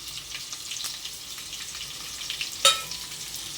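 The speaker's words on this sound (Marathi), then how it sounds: "कांदा आपल्याला छान असा तेलामध्ये फ्राय करून घ्यायचा आहे" Sliced onion fries in oil with cumin for spinach rice, a continuous soft crackling sizzle up close, with one sharp metallic clink near the end.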